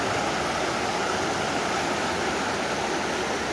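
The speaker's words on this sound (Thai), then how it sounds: "น้ำไหลแรงนะ" Fast-flowing stream water rushes constantly over rocky rapids, a dense, steady wash of noise with no pauses and no voices.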